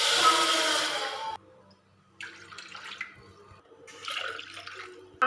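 Water poured from a glass into a pan for cooking rice, three separate bursts of splashing flow with quiet gaps between them, the first the longest and the loudest.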